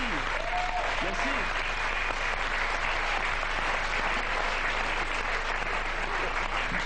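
A studio audience claps loudly and continuously for a French singing group, with voices carrying over the dense applause.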